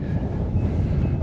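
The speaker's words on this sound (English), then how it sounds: "The wind is getting a bit blowy." Steady wind buffeting on a walking trail in Namadgi, a continuous low rumble with no break and no voices.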